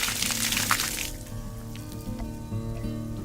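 Water gushing from the flushed end of a drip irrigation line, a loud splashing rush for about a second that drops to a quieter trickle under a steady mechanical hum.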